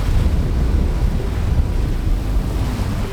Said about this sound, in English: the wind gusts got stronger and stronger.